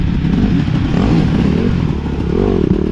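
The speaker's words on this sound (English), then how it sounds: "this is running on my 2024 KTM 300 XCW" A 2024 KTM 300 XCW two-stroke dirt bike rides on an off-road cross-country course, its engine loud and close with continuous revving and rising and falling pitch, plus clattering over rough ground.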